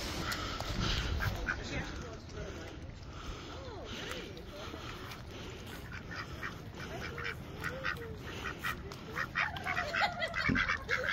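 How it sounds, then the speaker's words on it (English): Ducks on a farm near goats and sheep, quacking and calling in scattered bursts amid outdoor background noise, with people talking at times. "These are some of the ducks at some TouchStone Farms."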